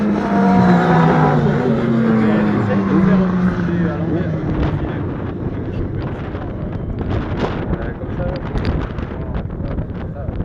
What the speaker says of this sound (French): Contre Thomas de JL Moto sur sa 900 moteur.